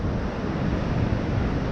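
The Augrabies waterfalls roaring over rocks, a loud, steady broadband rush of falling water mixed with wind on the microphone, with no talking.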